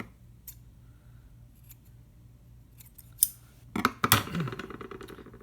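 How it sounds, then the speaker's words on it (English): Scissors cutting a small disc of material for an uilleann pipe valve mock-up: near-silence, a few faint ticks, then a close burst of sharp snipping and rustling toward the end. "But scissors will do the job."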